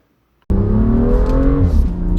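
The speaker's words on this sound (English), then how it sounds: "let's go for a drive in the M2" A 2017 BMW M2 engine bursts to life after half a second of near silence and accelerates hard, its loud, steady growl climbing in pitch with the revs, close by and with no one speaking.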